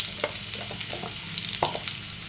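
Potatoes frying in a pan with a lightly salted mix, a dense hiss of oil with small crackles and stirring scrapes, close and steady.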